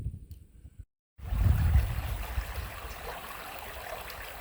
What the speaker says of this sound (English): I just love the sound of running water when you're out in nature.